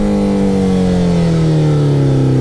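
A motorcycle engine drones loud and close at a steady throttle while riding at about 20 mph, its pitch sagging slightly and holding an even, continuous tone throughout.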